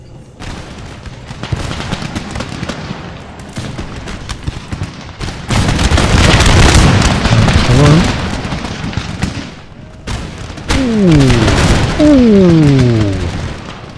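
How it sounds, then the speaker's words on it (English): Musket volleys crack out across an Empire: Total War battlefield, bursts of ragged gunfire layered with booms and rumbling, rising in intensity midway, while someone speaks briefly over the din. "Good volley, boys."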